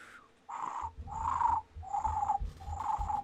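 A voice imitates a purring breath in four drawn-out, raspy pulses with short pauses between them, close and fairly loud.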